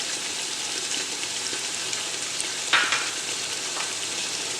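Whole dried red chillies and whole garlic frying in hot masala for an Azamgarhi mutton handi: a steady crackling sizzle throughout, with one sharper burst of spitting partway through, no voices.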